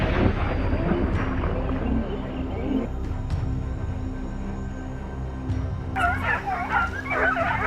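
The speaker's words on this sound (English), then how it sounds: "Their relentless barking echoes through the forest, signaling to their masters that more targets are near." Hunting dogs bark during a wild boar hunt in a mountain forest, with a few distant yelps at first, then a burst of eager, whining barks and yips toward the end over steady outdoor background noise.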